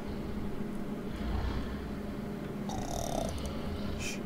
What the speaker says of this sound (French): Ah, Mitrandir, il ronfle.